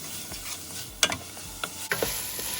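Onions with salt sizzle quietly in a pan while a utensil scrapes and stirs, giving several soft clattering knocks over the steady fry.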